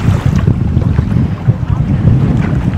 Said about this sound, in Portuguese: começou a formar um tempo com vento forte